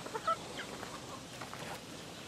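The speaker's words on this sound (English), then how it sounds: "There's my chickens." Backyard free-range chickens cluck and murmur faintly at a distance, with one brief sharper call near the start against a quiet outdoor background.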